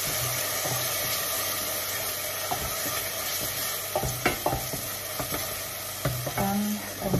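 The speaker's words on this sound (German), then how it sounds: "Brate ich den Ketchup ein bisschen an" Ketchup and paprika paste fry in a pan with a constant close sizzle, broken by several scraping stirs and clinks of a utensil against the pan, with no talking.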